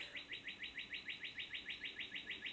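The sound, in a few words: birds chirping outside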